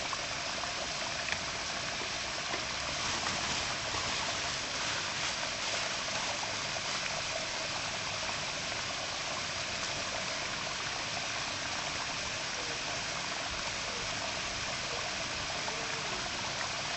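Spice paste for cilok sautés in oil until the oil separates, giving a steady, close bubbling sizzle that holds evenly throughout with no talking.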